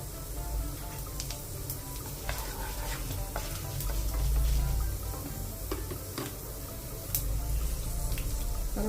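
Chana dal and urad dal frying in hot oil for a Tamil tempering sizzle steadily, with scattered sharp crackles and pops over a constant hiss. No one speaks.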